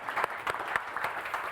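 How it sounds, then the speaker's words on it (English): A short burst of audience applause for a speaker at a trade-show presentation, scattered close hand claps from a modest crowd, no talking. "Barry, round of applause for Barry, please."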